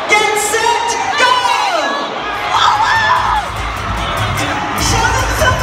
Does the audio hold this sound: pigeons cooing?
no